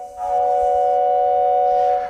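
A steam-train whistle effect sounded on a Wurlitzer theater organ for silent film accompaniment, a loud sustained chord-like whistle blast holding steady for about two seconds, close and alone.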